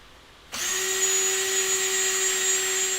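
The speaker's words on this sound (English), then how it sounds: "I just marked the holes because it's just going to keep spinning, so I'll thread these" A power tool threading bolt holes for a DIY boat seat tool holder starts up abruptly and holds a steady high whine, running alone without talk.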